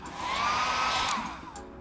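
A hair dryer whirs briefly nearby, a steady airy blowing hum with a slight rise and fall in pitch.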